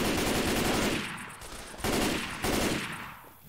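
Assault rifle fire in the game Left 4 Dead 2: loud, close rapid automatic bursts, three of them separated by brief pauses, with no talking over them.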